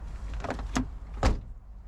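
A used car's door is handled nearby: a couple of sharp clunks and latch sounds, with faint mechanical rattling between them, no voices.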